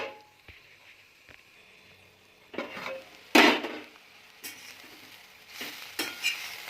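A lid set down on a pan of cooking bitter gourd vegetable, marked by a sharp clattering knock amid soft stirring scrapes and faint sizzling, with a few lighter clinks afterward, close by.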